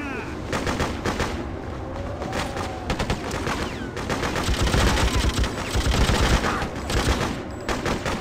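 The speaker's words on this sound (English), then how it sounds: "We're taking fire!" Rapid automatic gunfire and bursts of shooting in the video game Freedom Fighters, a dense, loud, continuous battle with overlapping shots near and far, with shouted voices mixed in.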